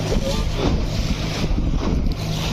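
Boat moving across rough water where a river meets the sea at Devbag on the Konkan coast, a steady rumble of engine and waves with heavy wind buffeting the microphone throughout.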